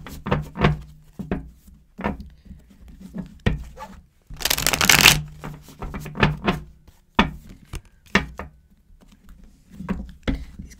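Thick, stiff tarot cards shuffled by hand close up, repeated riffling snaps and thumps in an uneven rhythm with one long dense shuffle in the middle, no voices.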